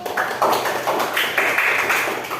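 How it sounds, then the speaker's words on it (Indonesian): Classroom applause from students in a school lesson, a steady patter of hand claps lasting a couple of seconds at moderate loudness with no talk over it. "Kita kasih aplaus dulu."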